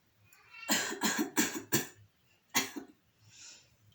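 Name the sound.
coughing during deep breathing exercise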